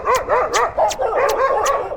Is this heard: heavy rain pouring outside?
no